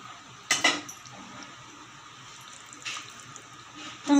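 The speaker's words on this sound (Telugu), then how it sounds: "నీళ్ళు పోసుకొని శుభ్రంగా కడుక్కోవాలి." Goat tripe being rinsed in water, with brief splashes and pours of water, a few short bursts separated by quiet moments.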